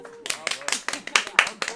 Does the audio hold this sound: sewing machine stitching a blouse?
no